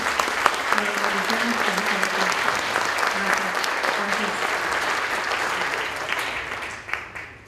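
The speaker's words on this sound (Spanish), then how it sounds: "les pido que les demos un aplauso fuerte a cada uno de los que están aquí con nosotros." Sustained audience applause greets a panel of experts at a human capital and talent conference, a loud, dense wash of clapping for several seconds with voices murmuring underneath, fading near the end.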